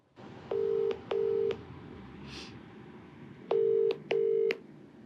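Touch-tone beeps of a telephone number being dialed, four steady tones in two pairs with brief gaps, clear and close, with no talking.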